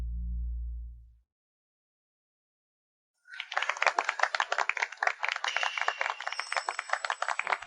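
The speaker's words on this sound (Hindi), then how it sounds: "आइए अब हम सब मिलकर जोरदार तालियों से सबसे सुंदर दुल्हन का स्वागत करें।" Applause welcomes a bride at a wedding: after a low hum and a brief silence, a burst of crisp clapping from a crowd rises and continues steadily.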